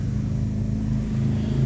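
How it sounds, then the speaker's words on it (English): Steady road traffic noise near a cemetery in Tiffin, Ohio: a continuous low rumble of passing cars and engines, fairly close and constant throughout, with no speech. "Sorry about the road noise"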